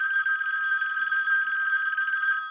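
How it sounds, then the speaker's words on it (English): A telephone bell rings continuously in a steady, bright electronic trill, clear and close, with no voices over it, as in a police office scene. "In a few seconds, that phone will ring"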